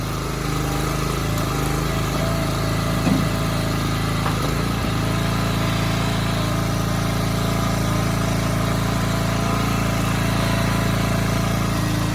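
Engine-powered log splitter running steadily while splitting hickory, a loud continuous mid-pitched engine drone with a few brief knocks and strains near the middle, no talk over it.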